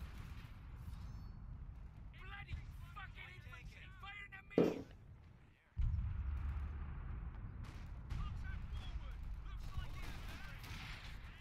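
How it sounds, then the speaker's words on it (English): British artillery booms in a World War II strategy game set around Caen, a heavy blast landing midway among scattered distant gunfire, with a voice talking over the battle. "British artillery going down there"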